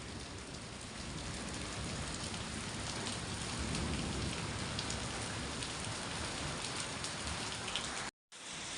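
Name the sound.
rain falling on a garden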